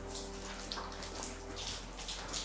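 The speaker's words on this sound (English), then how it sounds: "it looks like there's some sort of water leak" Water trickles and splashes steadily from a leak inside an abandoned mansion, a continuous close dripping and running sound with no voices over it.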